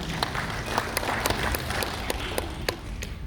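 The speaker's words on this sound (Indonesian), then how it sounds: "Kita beri aplaus dong videonya." Audience applause after a video is shown at an Indonesian talk show, a steady patter of clapping from a modest crowd at moderate volume.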